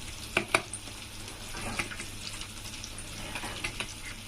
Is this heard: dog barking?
no